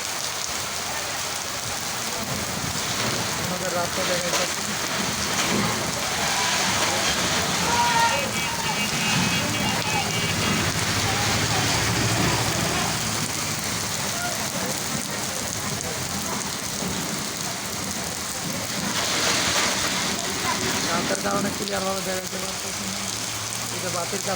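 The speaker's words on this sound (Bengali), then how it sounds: "আমার অফিসের উপর দিয়ে বৃষ্টির ঝড় যাইতেছে" Heavy rainstorm pouring onto an office roof at night, a steady dense hiss of rain with swelling gusts that stays loud and unbroken throughout.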